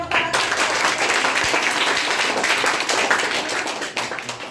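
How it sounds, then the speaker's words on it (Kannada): Loud, dense applause fills a children's prize distribution ceremony held by a Karnataka state children's committee, continuous clapping from a crowd that holds steady before easing off near the end. "ಜೋರಾದ ಚಪ್ಪಾಳೆ"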